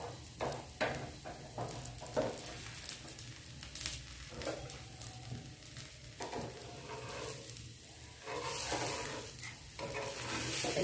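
A fasting dosa roasts on a hot pan with ghee drizzled over it, giving a steady close sizzle and crackle with scraping and stirring touches throughout, swelling louder near the end; no talking.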